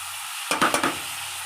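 A spoon scrapes through raw prawn curry with tomato and cashews in a hot frying pan, giving three or four quick stirring strokes over a soft sizzle, close and brief.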